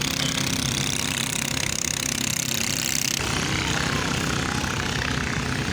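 A long-tail fishing boat engine running in Pattani, a loud, continuous rough chugging drone that stays close and steady throughout with no talk.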